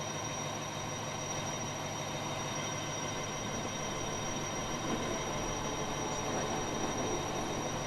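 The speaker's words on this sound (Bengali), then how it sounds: "ট্রেন যাচ্ছে।" A train runs in the Roblox game Epic Rails: a steady, continuous rumble with a constant high whine on top, holding even and unbroken throughout with no talking.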